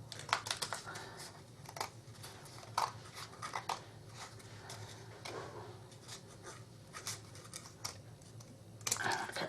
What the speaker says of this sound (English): take my scissors and I'm just going to cut right next to my corrugated cardboard